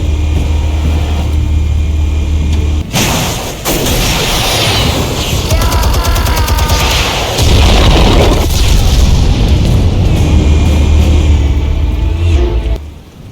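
Explosives detonate in Batman: The Telltale Series, a string of loud booms and blasts with gunfire-like cracks and debris running through the whole scene, with brief quieter gaps between heavy hits.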